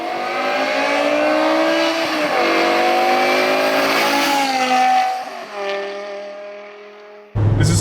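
A 2008 BMW M5 E60 sedan with a V10 engine accelerating hard, its loud, high, rising wail climbing through gears with brief dips at each shift, close and dominant before easing off.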